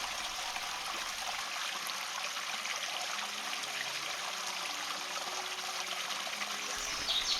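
The Glane, a small stream, trickles steadily out of a cement pipe in the woods, making a continuous soft, even burble with no voices.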